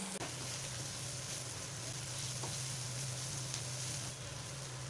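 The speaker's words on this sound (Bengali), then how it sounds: "পেঁয়াজগুলোকে খুব ভালো করে ভেজে নিচ্ছি।" Onions frying in oil in a pan while a tilapia and brinjal curry is being made, giving a steady, close sizzle that runs unbroken under a low hum.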